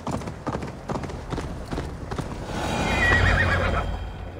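A horse in Assassin's Creed Valhalla clip-clops along at a steady pace, then lets out a loud, drawn-out neigh near the end, heard with no talk over it.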